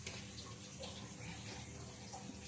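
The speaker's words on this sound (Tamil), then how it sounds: "மிஷினில் துணி இப்போ ஓடிக்கிட்டு இருக்கு" A washing machine runs with a load of clothes, giving a steady, faint, continuous watery rush and churn with no breaks.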